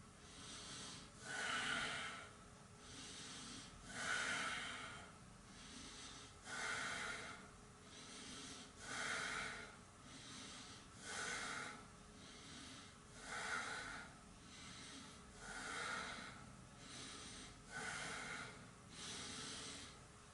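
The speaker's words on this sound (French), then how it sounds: "Et je respire." Slow, rhythmic breathing during a seated Yoga Mudra forward fold: about nine even breath cycles, each a soft rushing inhale or exhale swelling and fading, close to the microphone, with no talking.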